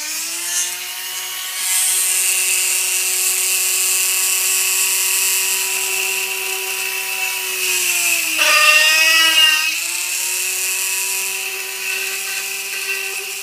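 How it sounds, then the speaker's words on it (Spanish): A power drill with a bit bores holes for a homemade wind turbine, a steady high whine that dips briefly as the bit bites and loads, then recovers, close and continuous. "vamos a utilizar la broca que ya utilizamos antes para los demás tornillos"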